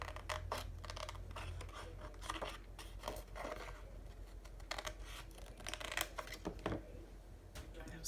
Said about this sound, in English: Those scissors might take all day.